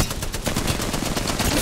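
Rapid bursts of automatic gunfire from an Apex Legends match, dense and continuous with sharp repeated shots close up, no voices over them.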